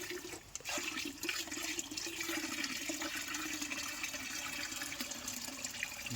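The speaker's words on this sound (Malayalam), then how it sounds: "അങ്ങനെ ടാങ്കിൽ ക്ലീൻ ചെയ്ത് വേസ്റ്റ് വെള്ളം കളഞ്ഞുകൊണ്ടിരിക്കുകയാണ്." Waste water from a cleaned guppy tank drains away in a steady, rushing gush, like a flush, with a continuous close splash and no talking.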